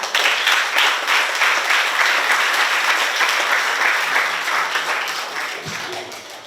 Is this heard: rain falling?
no